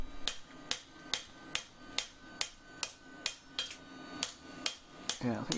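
Steady hammer blows on hot steel while forging a chef's knife, about a dozen evenly spaced sharp strikes ringing close by, with no talking.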